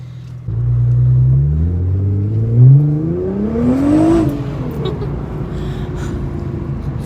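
A Nissan GT-R engine pulls hard from inside the car, its loud rising drone climbing through the gears and then easing back into a steady rumble.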